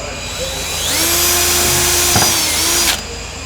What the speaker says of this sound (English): we can pre-drill the hole with an 8mm bit